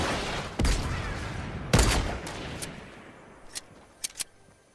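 Sniper rifle shots in the Fortnite battle royale game, two loud sharp cracks with long decaying tails followed by a few fainter, quicker distant pops.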